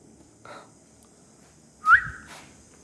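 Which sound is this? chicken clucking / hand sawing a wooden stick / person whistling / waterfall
person whistling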